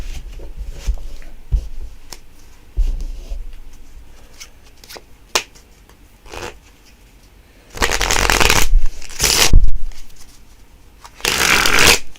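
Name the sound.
shuffling playing cards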